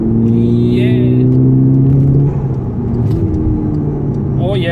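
A 2010 VW Golf GTI with underboost faults, its engine droning loud and steady from inside the cabin, pitch holding then dipping midway as it settles, with a voice speaking over it.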